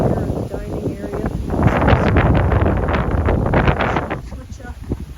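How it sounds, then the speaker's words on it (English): Gusty wind buffets the microphone outdoors at a seaside resort, a steady roaring rumble that swells louder midway and eases toward the end, with no voices. "A little bit of a windy day today,"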